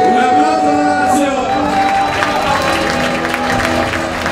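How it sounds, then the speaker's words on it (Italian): A crowd applauds and cheers Lazio's second-place finish at the awards of the 22nd Manlio Selis world youth football tournament, a loud dense clapping roar with whoops and shouts. An announcer speaks over the noise. "Grande applauso per loro"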